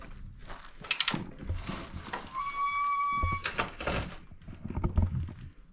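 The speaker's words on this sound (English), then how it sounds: "There's a stick holding this door open, so I'm going to take the liberty of opening this" An old wooden barn door on an abandoned Wyoming ranch creaks open in a series of scraping, thudding movements, with a long high squeal partway through.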